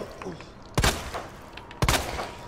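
Two loud bursts of gunfire from the Resident Evil 2 Remake video game, spaced about a second apart, each a sharp crack with a short decay over a low game background.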